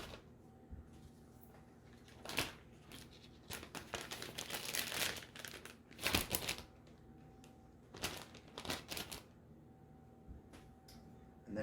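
Plastic bag crinkling in bursts as boneless center-cut pork chops from a whole fresh pork loin are packed five to a bag, with scattered crackles and rustles at close range and no talking.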